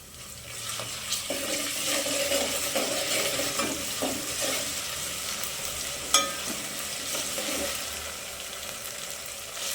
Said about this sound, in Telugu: పచ్చివాసన పోయే వరకు వేపుకోవాలా.